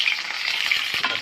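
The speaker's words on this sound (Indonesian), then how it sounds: "bawang ya, kita tumis." Onion sautéing in hot oil for an omelette, a steady close, loud sizzling hiss with a few soft stirring knocks near the end; no talking.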